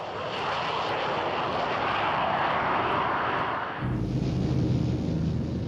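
U.S. fighter aircraft engines roar loudly in a continuous rushing drone over North Korean airfields, the tone abruptly shifting to a deeper, heavier rumble near the end.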